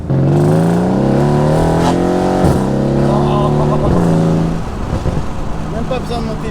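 A Mercedes C63 S AMG engine revs hard and holds a droning pitch, then drops off into crackling, popping exhaust bursts, close and loud.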